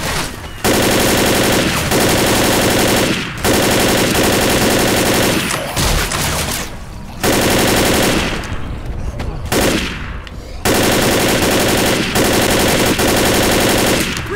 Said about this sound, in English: This assault rifle should be doing more damage than it does, man.